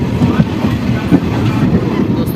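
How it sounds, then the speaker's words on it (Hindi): An Intercity Express train pulls away from Raghopur railway station, carriages rumbling loudly and steadily with rhythmic clickety-clack of wheels on rail joints, heard close from on board. "2 मिनट होने के बाद अपनी ट्रेन का डिपार्चर हो चुका अपनी राघोपुर रेलवे स्टेशन से"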